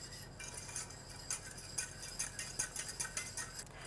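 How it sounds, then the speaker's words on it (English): A spatula scrapes and stirs pastry cream in a pan over medium-low heat, giving faint, close, rhythmic clinks and scrapes repeating through the whole moment. "we're going to stir until we get a lovely pastry cream"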